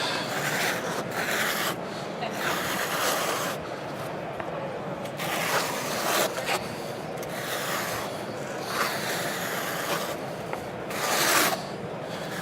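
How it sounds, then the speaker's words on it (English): Lines being scraped by hand during an nVent Nuheat floor heating mat install at a trade show demo stage: steady rasping, rubbing strokes repeat over and over against a constant, busy background hum. "now I'm just going to start scraping my lines."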